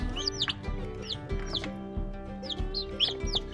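Ten young chicks in a stock tank brooder, peeping and chirping in quick repeated calls, close and clear over a low background hum.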